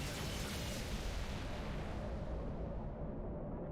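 Triple MAC cannon on a frigate in Halo Reach firing, heard as a sustained, dense rumbling blast that fills the whole clip at steady loudness with no talking.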